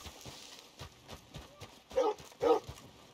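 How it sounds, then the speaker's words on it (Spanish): In Red Dead Redemption 2, a large dog gives two sharp barks close together, mid-distance, over a soft patter of horse hoofbeats. "Oigo un perro grandote ladrar."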